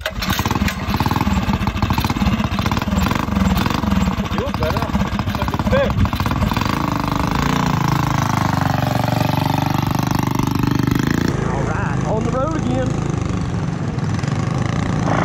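A TrailMaster MB200 mini bike engine drones loud and steady up a hill in the Rockies, its buzzing pitch holding and then easing off, with people talking over the noise.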